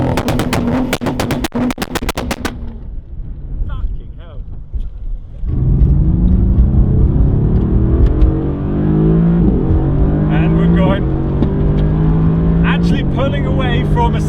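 A Mercedes-AMG GT R drag races a 700 hp Audi RS4 B5: after a sharp burst of clicks and a quieter pause, a loud engine roars up through rising gear sweeps, a close, sustained acceleration with layered whine.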